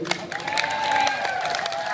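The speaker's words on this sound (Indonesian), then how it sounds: "Sebelum saya panggil tepuk tangannya dulu mana sekali lagi." A live band showcase audience claps and cheers, a dense wash of applause with shouts rising through it, fairly loud and continuous with a held tone sounding underneath.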